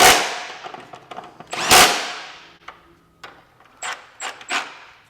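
A power tool runs in short bursts to tighten bolts on a 1997-2001 Honda CR-V during a lift kit install, with loud impacts and whirs up front, then several quick high zips near the end.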